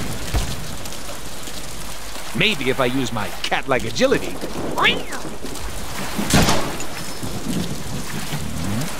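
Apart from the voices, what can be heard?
rain and thunderstorm in the video game Deadpool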